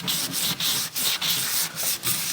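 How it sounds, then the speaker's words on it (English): A car body panel is scrubbed by hand to a matte finish: quick, rhythmic back-and-forth abrasive strokes, about eight in a row, close and fairly loud with brief gaps between passes. "I need to stop talking and do more scrubbing"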